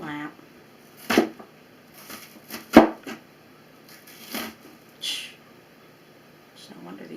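A few separate chops of a dull kitchen knife through vegetables while making chicken noodle stew, sharp thuds spaced irregularly between quiet moments, with a person speaking nearby.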